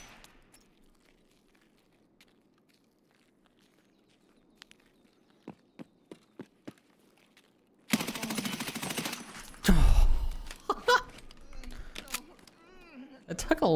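Automatic gunfire in an Escape from Tarkov PvE raid, a loud sustained burst of many rapid shots, preceded by a run of quieter, regularly spaced footsteps and followed by scattered impacts and rustling.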